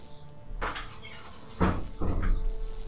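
A door closing in the video game LEGO City Undercover, two or three close thuds and knocks over a low in-game ambience, with no talking.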